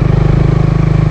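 A Suzuki Raider 150 Fi motorcycle engine pulses steadily and loudly at low RPM under engine braking in second gear, a close, rhythmic throbbing chug with no talking.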